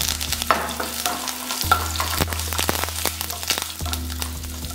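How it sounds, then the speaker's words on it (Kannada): Crushed garlic and curry leaves fry with mustard seeds in hot oil in a kadai, a steady close sizzle broken by sharp crackles and pops. A low background hum drops and returns partway through. "ಬೆಳ್ಳುಳ್ಳಿ ಚೆನ್ನಾಗಿ ಬೇಯಬೇಕು ಎಣ್ಣೆಯಲ್ಲಿ"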